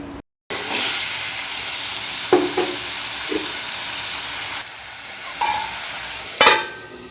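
Chopped tomatoes and green chillies sauté in a pan for a crab curry, a steady close frying hiss broken by a few short scraping stirs.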